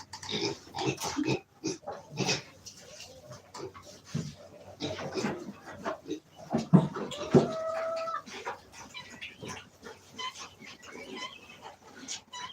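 Pigs in a warm barn pen grunt and snort in irregular bursts, close and fairly loud, with squeals and other animal or bird calls scattered among them and quiet gaps in between.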